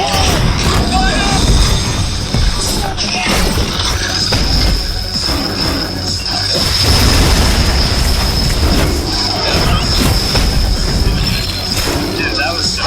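A dense roar of rumbling booms and crashes as thousands of shells launch and explode at once in a game, a loud continuous barrage with a steady high whine over it.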